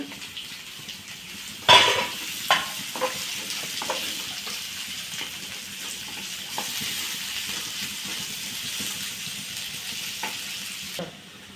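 Thinly sliced onions, two of them, sautéing in a pan for a Kerala-style potato curry, a steady soft sizzle with occasional sharp stirring clinks and scrapes, close and alone without talk.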